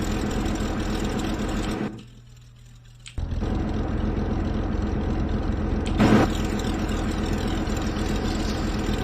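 A Cessna 340A piston engine in a flight simulator idles with a steady low drone, broken by a brief near-silent gap, then resumes with a short louder burst before settling back to a constant hum.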